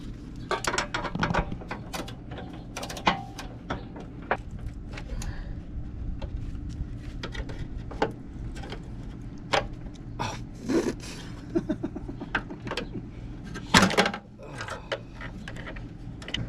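Ratchet clicks in short bursts while bolts are tightened onto a bracket for aluminum fenders on a Jeep JL, with some scraping and knocking between the bursts; the sounds are close and moderately loud.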